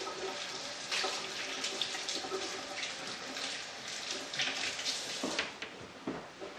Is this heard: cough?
no